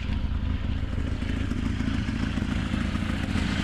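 A 1980 Lada 2101 car engine, not yet warmed up, runs steadily and loudly with a rough, rattling mid-range roar, close up and without any voices.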